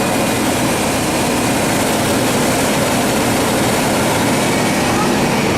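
A car engine running steadily after its battery has been charged, a loud, continuous droning idle heard up close without a break.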